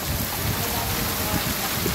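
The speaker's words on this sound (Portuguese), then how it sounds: "Começou a chover cedo e tá aí, ó. É muita chuva." Heavy rain pours steadily during a daytime downpour in Brazil's Northeast, a dense, loud, continuous hiss with low rumbling wash and no voices.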